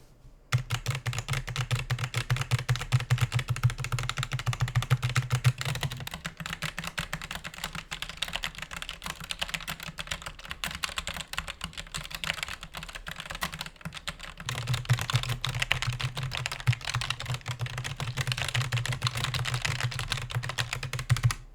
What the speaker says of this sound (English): let's do that same keyboard test and see what we get